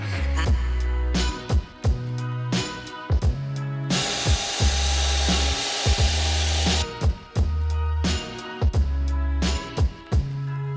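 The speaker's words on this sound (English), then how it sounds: "drilling a pilot hole first before we do the big hole" A power drill bores a pilot hole through a house wall, with repeated loud bursts of whirring and grinding and one long sustained high-pitched stretch of drilling in the middle, all close by.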